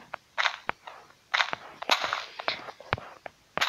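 Gunshots from a gun mod in the mobile game Minecraft PE: a series of sharp, snappy cracks at irregular intervals, some in quick pairs, loud and close with no talking.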